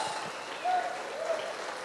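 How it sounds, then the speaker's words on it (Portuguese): Church congregation applauding at a Christian conference, a steady wash of clapping with a brief louder swell partway through. "Aplauda o Senhor."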